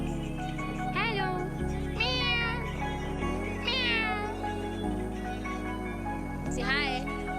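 A pet cat meows several times, four drawn-out, rising and falling meows spaced across a steady droning background, close and clear.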